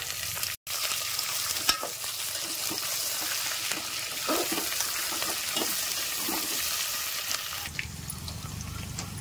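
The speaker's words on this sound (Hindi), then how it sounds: "अब जा रहे हैं इसमें प्याज भूनने।" Onions frying in a pan on a home kitchen stove, a steady close broadband sizzle with occasional stirring scrapes and clatters, one abrupt brief dropout early on, no voices.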